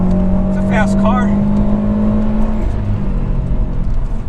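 A Subaru WRX STI's turbocharged engine hums and pulls steadily from inside the cabin during acceleration, a sustained tone that fades after a couple of seconds, with a voice speaking over it.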